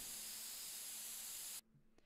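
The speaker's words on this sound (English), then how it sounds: "I love that spray paint noise." Hissing spray paint can from The Sims video game, a steady quiet spray lasting about a second and a half before cutting off abruptly.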